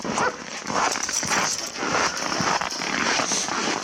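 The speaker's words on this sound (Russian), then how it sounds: "Вот это охотничьи собаки. Они тоже вот так зимуют на улице без проблем. Это восточные лайки, наверное." East Siberian Laika hunting dogs outdoors in a harsh Siberian winter at around minus fifty, with steady broadband outdoor noise and scattered short bursts that could be barks or movement, fairly close and continuous over a few seconds, no talk.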